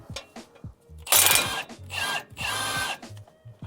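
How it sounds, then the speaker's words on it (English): An impact wrench with a 21 mm socket hammers on a tie rod nut of a 2004-2008 Ford F-150 in three short, loud rattling bursts with small clicks and clinks between them. "I'm going to use my impact on this one."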